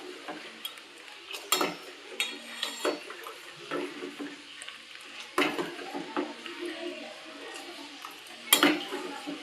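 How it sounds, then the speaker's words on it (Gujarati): Metal spoon scraping and clinking against a pot while cocoa mixture is stirred into milk, a run of irregular close clatters and swishes with a few sharper knocks, no voices. "થોડું થોડું એડ કરતા જાઓ અને હલાવતા જાઓ."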